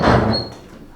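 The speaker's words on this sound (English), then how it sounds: "just open the door" A door swings open with a brief creak and thump in a quiet room, a single loud, close sound that fades within a second.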